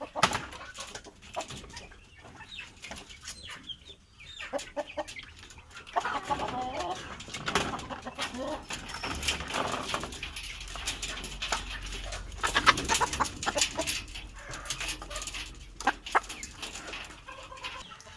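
Chickens clucking on a small farm, with steady bird calls and occasional barks mixed into a busy outdoor background that stays moderately loud throughout, no talk.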